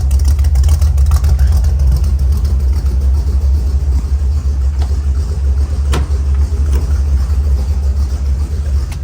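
A 1968 Chevrolet C/K 10 pickup's V8 with a mild cam and dual exhaust runs steadily, a loud, close, continuous low rumble with slight irregular lope throughout.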